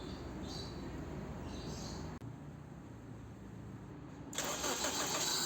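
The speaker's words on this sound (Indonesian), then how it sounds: "Ini mesin sudah menyala" A Suzuki Aerio with no air filter box fitted sits under a steady background hum, then its engine fires near the end with a sudden, louder rush of intake noise.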